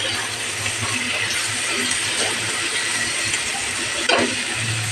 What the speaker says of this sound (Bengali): একটা টমেটো লম্বা লম্বা করে কেটে আমি দিয়ে দিলাম। এবার এটাও একটু ভেজে নেব।